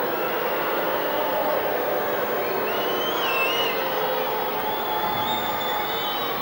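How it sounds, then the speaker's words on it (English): A large stadium crowd at a 1987 men's field hockey match between Great Britain and Malaysia in Luton keeps up a steady, distant roar of murmuring and jeering while a player lies injured. "Crowd not too sympathetic."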